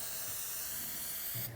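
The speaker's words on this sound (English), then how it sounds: "I will be using spray adhesive to adhere them onto the wood" Spray adhesive hisses in one steady, close burst onto paper patterns in a woodworking shop, then cuts off abruptly at the end.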